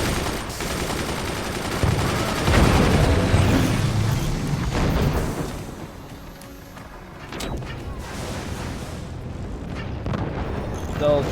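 Heavy mortar barrage in the strategy game Forts, a dense rumbling wash of repeated launches and booming impacts that swells, eases midway, then returns, with voices talking over it.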